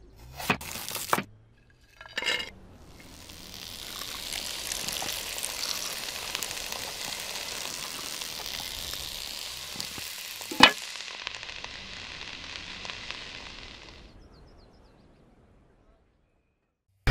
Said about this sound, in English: True Asian stir fries are cooked fast to seal in the flavour